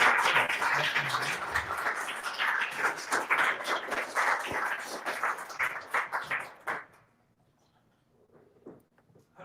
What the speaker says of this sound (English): Big round of applause for Peter Adler.